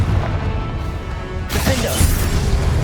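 In Hogwarts Legacy, a Confringo fire spell bursts into a sudden booming explosion partway through, over a constant dense rumble of game ambience.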